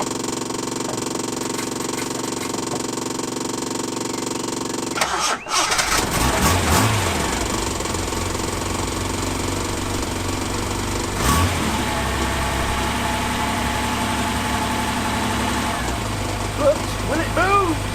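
A Reliant car's engine cranks and catches after a repair, then settles into a steady idle with a few light revs; people talk over it in the background.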